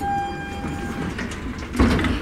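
Elevator doors slide open over a steady mechanical hum, with a louder rumbling thud near the end as they finish moving.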